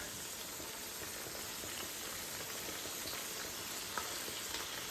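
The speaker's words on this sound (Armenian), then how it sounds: "Չենք թողնում շատ տապակվի, որպեսզի սխտորը չվառվի" Garlic frying in a pan with red pepper gives a steady, soft sizzle with faint crackles throughout, quiet and even, with no voices.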